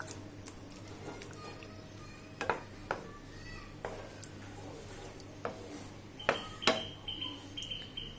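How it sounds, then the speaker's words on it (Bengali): Fried egg and boiled potato stirred in a cooking pan, soft scraping and occasional metallic clinks of a spoon against the pan, quiet and close, with no talking. "দিয়ে ভালো করে একটু নেড়ে নেব।"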